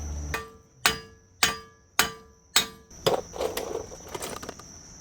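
Hammer striking to knock out the front passenger axle of a 2000–03 Nissan Maxima: five sharp ringing metallic blows at an even pace, followed by a looser clatter of lighter knocks and scraping close by.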